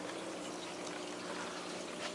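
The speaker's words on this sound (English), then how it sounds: "it pumps it back up to the tank through these pipes" An aquarium pump on a reef tank pushes water back up through pipes, giving a faint, steady rush and trickle of flowing water with no pauses.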